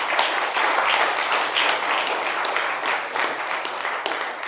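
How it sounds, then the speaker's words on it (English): Sustained applause from an audience at a Dania candidates forum, steady dense clapping throughout at moderate distance with faint voices mixed in. "Put your hands together for these wonderful candidates."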